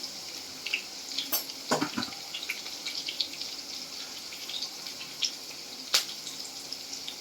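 Green chilies frying in oil in a pan, a soft continuous crackle with sharper pops and a few clinks of a stirring utensil, close and alone without talk.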